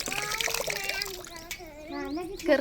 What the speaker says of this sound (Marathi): आता पाटीतलं पाणी देते ओतून आणि निरम्यात घालते धुणं, टाकते सपा सपा धुवून.